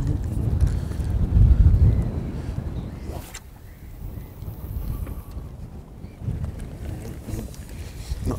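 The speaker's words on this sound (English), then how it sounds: "Wind's just got up a little bit." Wind gusting across a reservoir during a fishing match, a steady rushing buffet on the microphone that swells, eases briefly, then picks up again, with faint water chop beneath.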